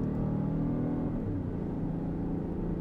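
A Peugeot 5008 GT 1.2 Hybrid with eDCS6 gearbox pulls uphill under acceleration, its engine a steady low rumble and whir heard from inside the cabin with no talk over it.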